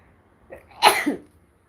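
A single short sneeze, close and fairly loud, with a brief inhale before it and a quick, sharp burst, then silence.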